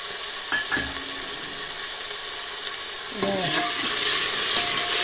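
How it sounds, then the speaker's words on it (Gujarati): Green peas sizzle and fry in a pan with potatoes for aloo matar, a continuous close crackling hiss that grows louder, with clinks and stirring scrapes of a spoon against the pan; no speech. "અને હવે વટાણા અંદર નાખી દઈશું."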